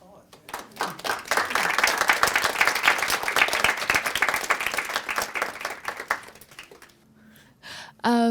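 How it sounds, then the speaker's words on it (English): An audience claps at a design talk, the applause swelling quickly into a loud, dense patter, then thinning and fading out near the end before a voice begins speaking. "First of all, a round of applause."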